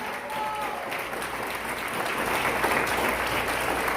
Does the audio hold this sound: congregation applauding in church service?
yes